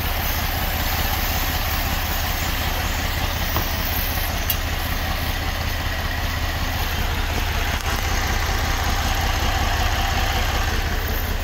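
A Chevrolet Equinox or GMC Terrain V6 idles steadily during an injector cleaning, a constant low engine drone with a faint ticking texture, close and uninterrupted with no talking.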